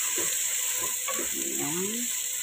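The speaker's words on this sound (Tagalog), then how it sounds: "Haluin natin konti." Chicken with lemon and potato sizzles in a pan while a spatula stirs it, producing a constant bright hiss under a few soft scraping strokes and clinks.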